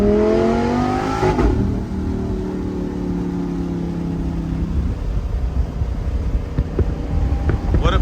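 A Lamborghini cruising along Back Bay near Newport Beach, engine tone rising then settling into a steady drone, with wind rush and road noise around the car.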